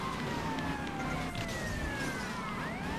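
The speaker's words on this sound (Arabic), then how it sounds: "الشرطة جتنا." Police siren in GTA Vice City Definitive Edition, a steady wailing tone sweeping up and down continuously over game engine noise and background traffic rumble, fairly loud throughout with no talk.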